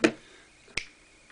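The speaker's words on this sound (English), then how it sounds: "When I count to three and snap my fingers, you will be out of this trance." A single sharp finger snap rings out at the start, followed by a second, softer snap near the middle and a faint third tick toward the end, close and dry with quiet between them.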